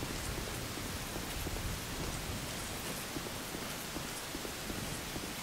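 Rain falls steadily in the video game Dark Souls 2, a dense, even wash of patter with faint irregular taps mixed in and no voices.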